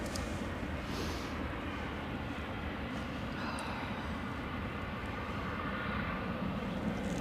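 An airplane at Edinburgh Airport on an icy day makes a steady, broad jet-engine roar that stays fairly distant and constant throughout, with no talking.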